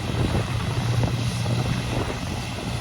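A John Deere tractor engine runs at a steady, even drone, a constant low rumble heard close up with some wind noise and no talking.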